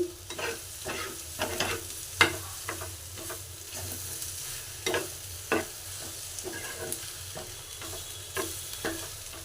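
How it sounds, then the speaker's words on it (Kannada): Egg bhurji with chopped coriander leaves being stirred in a pan, a soft steady sizzle under regular scraping and tapping strokes of a spatula, fairly quiet and close. "ಕೊತ್ತಂಬರಿ ಸೊಪ್ಪು ಹಾಕಿದ್ಮೇಲೆ ಒಂದು 5 ನಿಮಿಷ ಮಿಕ್ಸ್ ಮಾಡ್ತೀನಿ"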